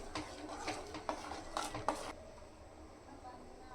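Spices stirred into a green pea and raw mango salad with a spoon, a few near clinks and scrapes against the pot for about two seconds, then quiet.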